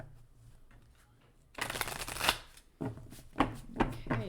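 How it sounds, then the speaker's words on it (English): Tarot cards being shuffled by hand, a quiet start giving way to a dense riffling burst, then several shorter crisp flicks and taps of the deck, close and alone. "Another shuffle."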